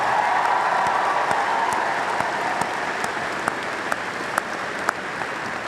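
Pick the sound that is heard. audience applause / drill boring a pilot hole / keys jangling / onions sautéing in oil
audience applause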